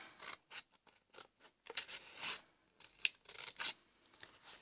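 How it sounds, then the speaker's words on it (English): Scissors snip through a strong piece of paper, cutting out a Christmas tree shape for a gift tag: close, crisp, irregular cuts in short bursts with brief pauses between them, and no talk. "with a pair of scissors you will need to cut"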